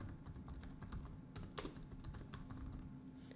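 Quiet, steady clicking of keys as someone types on a computer keyboard, a quick run of keystrokes with no voices.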